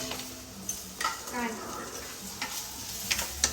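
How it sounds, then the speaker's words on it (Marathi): Hot oil in a pan on a home kitchen stove sizzles in a low, steady crackle, with a few sharper clinks of a utensil against the pan and faint voices in the background. "तेल तापत ठेवलं आहे आणि तो गरम झाल्यानंतरच हे सगळं त्याच्यात टाकायचं आहे"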